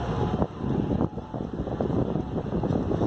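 Boat engine idling at a downtown San Diego waterfront, a dense continuous low rumble mixed with wind buffeting and broadband noise, steady and loud throughout.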